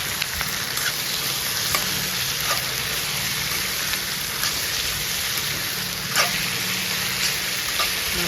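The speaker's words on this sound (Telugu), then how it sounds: "ఇప్పుడు ఫ్రై చేసుకున్నాను." Potato pieces for curry frying in a pan make a steady bright sizzle throughout, with occasional sharper pops and light stirring scrapes, close and fairly constant.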